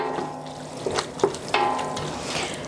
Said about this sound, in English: You're gonna continue stirring and kind of break it up. Your goal is to brown your beef.